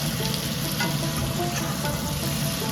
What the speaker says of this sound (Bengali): এবার হালকা করে নেড়ে কষিয়ে নিচ্ছি।